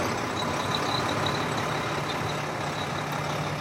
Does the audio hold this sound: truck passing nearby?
yes